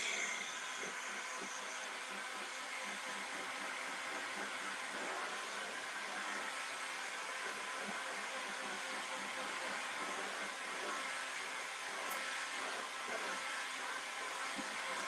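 A hair dryer blows steadily to dry freshly applied chalk mineral paint on a decoupaged door, a continuous loud whooshing hiss with no pauses and no talking.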